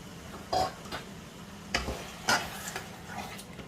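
A thick lamb moussaka meat sauce with canned tomatoes is stirred in a pot: a few soft, wet scrapes and squelches of the spoon spaced over a few seconds, fairly quiet and close, with no talk.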